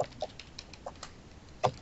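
Several short, sharp chicken clucks in a Minecraft-style video game, scattered irregularly, fairly close, with quiet gaps between them.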